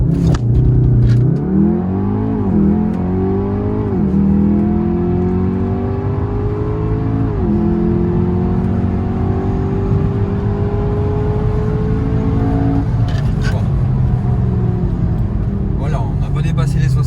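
A Volkswagen Golf 7R pulls away from a standing start and accelerates hard, its engine climbing through several gear changes and ending in a long rising pull, loud and close from inside the car, with a voice talking over it.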